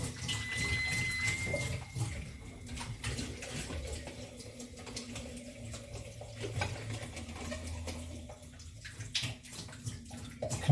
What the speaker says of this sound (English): Actually, I'm just going to give that a quick wash out.